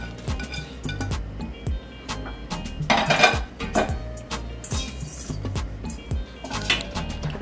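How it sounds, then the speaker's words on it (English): Okra, pumpkin, pimento peppers and onions go into a hot pot for callaloo: soft thuds and light metallic clinks repeat in a loose rhythm, fairly quiet and close, over a low background hum. "Then I'll throw the okra, the pumpkin inside, together with the pimento, onions,"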